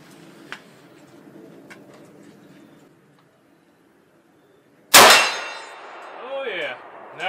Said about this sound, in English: Now I'm going to try to hit the smaller gong to the right of it.